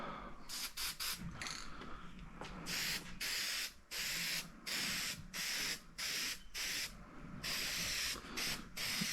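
A Yamaha G1 golf cart body gets a light first coat of spray paint in a series of sharp, loud hissing bursts separated by short pauses and faint clicks.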